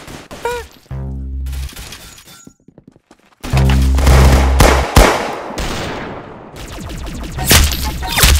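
Gunfire in the Roblox game Arsenal, loud distorted bursts of rapid shots and heavy impacts with cut-off gaps between them, harsh and clipped at close range.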